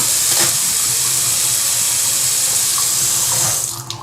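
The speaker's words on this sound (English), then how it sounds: "So y'all can check out the water flow." Water runs steadily from a matte black FORIOUS bathroom faucet into a sink, a strong, constant close-up hiss that holds for several seconds and thins out at the very end.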